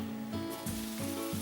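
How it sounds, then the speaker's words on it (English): Onion and garlic frying in olive oil, a soft steady sizzle under a low pulsing hum, faint and continuous with no voices. "You can probably hear my onion and garlic frying in the background."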